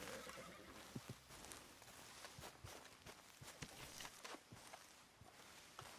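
Horse whinny in Red Dead Redemption 2, with clip-clop hoofbeats and footsteps mixed into busy game ambience; the neigh is moderate and partly buried among other game sounds.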